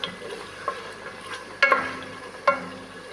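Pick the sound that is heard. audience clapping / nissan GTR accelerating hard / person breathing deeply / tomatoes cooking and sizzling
tomatoes cooking and sizzling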